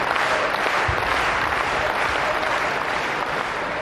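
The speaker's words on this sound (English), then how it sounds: "While there are no names attached to those claps, it's clear that it's for Dima" Steady applause from spectators at a professional table tennis match at the 2017 German Open, men's singles between Yan An and Dimitrij Ovtcharov, a dense wash of clapping filling the arena without pause.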